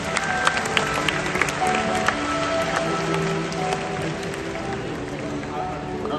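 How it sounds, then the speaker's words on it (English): An audience at the Predators on Wings bird show at Bird Paradise, Singapore, claps and cheers for the raptors and scavenger birds, a dense steady crowd applause with some sharper claps and voices mixed in. "Let's give them a round of applause."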